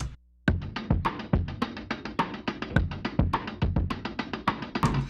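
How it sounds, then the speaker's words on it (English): Lo-fi break beat drum loop built from a chopped sample with a reworked kick pattern, steady busy hits of kick, snare and crisp hats after a brief low hum, played alone at moderate level. "So the song starts with a drum beat. It's like a break beat kind of,"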